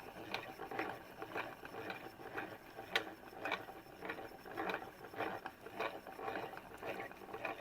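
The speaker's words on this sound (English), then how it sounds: "now this winder is more noisy than usual" A yarn winder runs noisily on a shaking table, giving a steady ratcheting clatter of regular, evenly spaced clicks about twice a second at moderate, close level with no talk.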